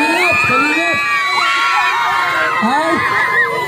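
A crowd of children and adults shouts together in a longest-shout contest at a community gathering, with loud overlapping voices held steadily throughout at close range.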